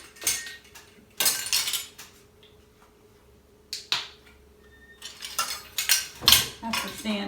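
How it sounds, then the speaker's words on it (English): Metal measuring spoons clink and rattle in bursts as they are taken out and handled in a kitchen, with short jangling clusters separated by quiet pauses. "Let me get my measuring spoons out here."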